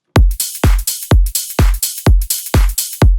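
A punchy electronic dance music drum loop with booming kicks and crisp snares and hats, repeating in a steady driving pattern, loud and close.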